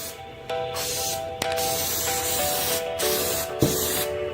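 Heavy final coat of spray paint hissing steadily onto a car center console, a continuous close spray broken by brief pauses between passes.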